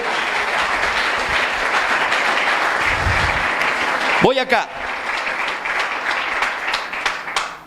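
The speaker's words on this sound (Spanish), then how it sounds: "Dale aplausos al Señor" A church congregation claps steadily and loudly, a dense wash of hands that runs for several seconds, briefly broken by a voice, then carries on under a speaker talking.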